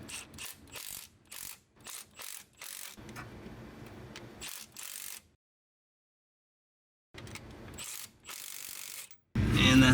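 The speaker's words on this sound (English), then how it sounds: "I'm just using the little 3/8 impact." A small 3/8-inch impact wrench runs bolts into a CV axle on a 1996 Chevy K2500 in quick, loud rattling bursts, with a pause and then more bursts.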